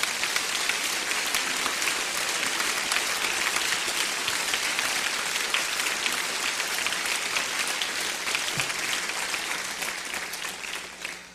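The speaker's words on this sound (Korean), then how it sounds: "목사님 나오실 때 크게 뜨거운 박수로 환영해 주시면 감사하겠습니다." A church congregation at a Baptist mission conference evening service applauds loudly to welcome the pastor, a dense, sustained clapping that holds steady before tapering off at the end.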